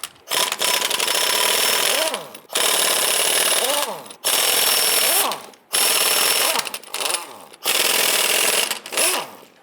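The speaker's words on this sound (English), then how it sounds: "Using your 19mm socket, go ahead and loosen and remove the nuts." A 19mm socket loosening wheel nuts on a 1995-2001 Ford Explorer: five loud, close, sustained rattling bursts of about a second and a half each, separated by brief pauses.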